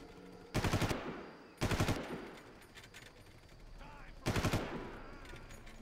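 Gunfire bursts from Far Cry, a first-person shooter: three loud, short automatic volleys spaced a second or two apart, with quieter ambient game sound between them.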